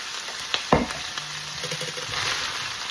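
Broccoli and spring onions being stir-fried in a pan, with a steady sizzle and a few sharp scrapes and clanks of a utensil moving the greens around, close and fairly quiet.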